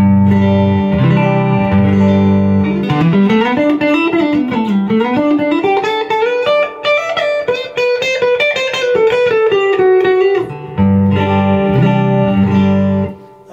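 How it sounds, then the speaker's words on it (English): A Fender Custom Shop 63 Telecaster played through a Fender Deluxe Reverb amp rings out loud and clear, with strummed chords opening and closing around a sliding, bending single-note melodic line, and no talking. "I'm going to plug into the deluxe reverb just to show you what that sounds like."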